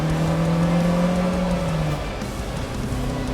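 An Alfa Romeo driven hard through the corners of a race track, its engine holding a steady tone before easing off and shifting lower, heard close up from inside the car with no talking.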